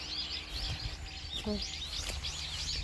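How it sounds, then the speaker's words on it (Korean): Birds sing outdoors over a rural patch of wild herbs and ground-grown aralia, a faint, steady warbling chorus running throughout above a low background hum. "오늘 새소리가 하도 아름다워서 지금 촬영합니다"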